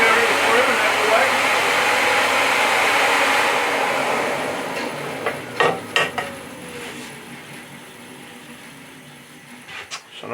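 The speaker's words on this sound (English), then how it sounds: "I can carry on through the cut, let the blades come out, and then just take the strip material through and out the way." A bandsaw fitted with a BS350 blade cuts through strip material with a steady, close, rasping whine for several seconds, then dies away into scattered knocks and clicks.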